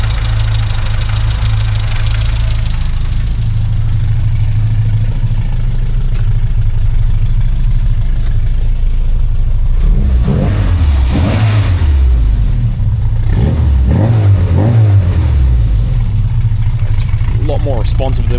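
A classic Mini's engine runs steadily at idle with a low, loud throb, then blips through several revs in the second half as someone talks over it.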